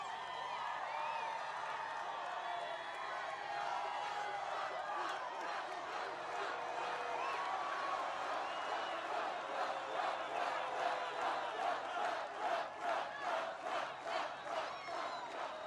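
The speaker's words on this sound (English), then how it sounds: "That's a big crowd of people." A large crowd at an outdoor political rally in Pickens, South Carolina roars and cheers, a broad wash of voices that builds into rhythmic chanting and clapping near the end.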